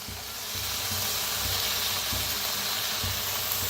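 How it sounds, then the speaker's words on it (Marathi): Safflower (karadi) greens go into roasted dal in a hot pan, setting off a loud, continuous close-up sizzle with faint stirring thumps and no voices. "आता त्याच्यातच टाकूया भाजी"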